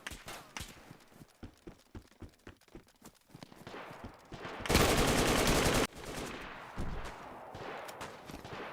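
Bursts of rapid automatic gunfire from a machine gun in DayZ, a sustained loud volley following scattered single shots and footstep-like thuds, with a brief shout.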